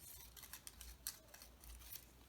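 Quiet snipping of scissors through thick paper, a few short crisp cuts spaced irregularly, close by with no talking.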